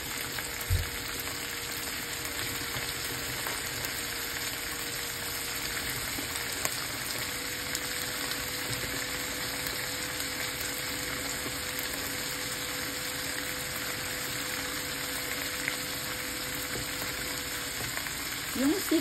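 String beans (sitaw) fry in a pan with a little oil, a steady, quiet sizzle that runs evenly throughout with occasional faint clinks.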